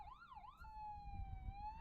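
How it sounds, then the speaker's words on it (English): Emergency vehicle sirens wail near a fire, one rising-and-falling tone that settles into a steady held pitch, moderately distant over a low rumble of traffic or engine noise. "You can hear the sirens going on."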